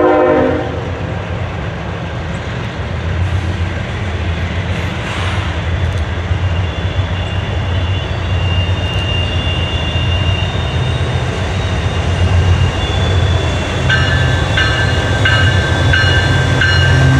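A CSX manifest freight train rounds a curve at St Denis, Maryland, with a continuous loud rumble and rolling wheel noise, high-pitched flange squeal on the curve, and repeated clicking from the cars late in the pass.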